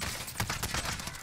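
Rapid bursts of automatic gunfire in a video game, a dense rattling volley lasting the whole moment, loud and close.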